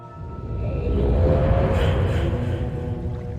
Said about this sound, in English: I love that linking book sound so much.